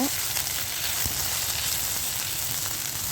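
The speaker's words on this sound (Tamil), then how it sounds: "இப்போ இஞ்சி பூண்டு விழுத்து வித்தியாசமாக இஞ்சி பூண்டு விழுத்து சேர்த்துக்கோங்க அதுவும் சேர்த்து நல்லா வதக்குங்க" Ginger garlic paste frying in a pan, giving a loud, continuous, even sizzle up close with no pauses, and no voices over it.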